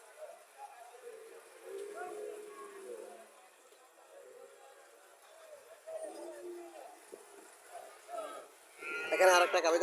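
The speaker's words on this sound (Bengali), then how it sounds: "এখানে আর একটা গাভি দেখা যাচ্ছে।" Cows, including a large Jersey or Haryana dairy cow, low at a busy cattle market in Comilla, Bangladesh, with several moos rising over a murmur of crowd chatter, and a louder burst of noise near the end.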